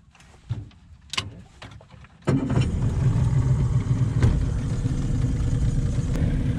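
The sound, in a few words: boat engine running at low RPM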